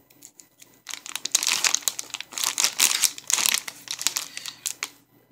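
Plastic crinkling and tearing, a burst of sharp crackly rustles that swell and fade as the bag is wrestled open up close.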